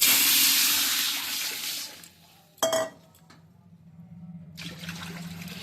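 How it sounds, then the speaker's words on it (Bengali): Water is poured into a cooking pot over bay leaf, whole cumin and dried chili fried for vegetable khichdi; a loud splashing rush for about two seconds gives way to a clink of the pot, then a softer renewed hiss. "এবার দিয়ে দিচ্ছি জল।"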